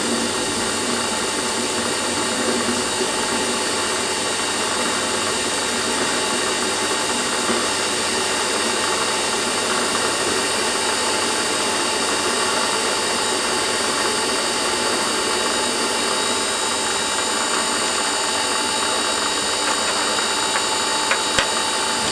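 A toolpost grinder runs steadily on a Warco lathe, giving a continuous high whine and broadband grinding hiss that holds at an even level throughout, with a couple of faint ticks near the end.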